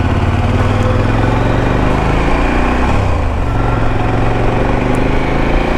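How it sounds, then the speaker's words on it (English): A 2017 KTM Adventure 1090 motorcycle engine lugs as it shifts from first into second gear, a loud, close, low rumbling drone that dips briefly around the shift and then carries on steadily, with no talking. "just going first to second, like the bike lugs"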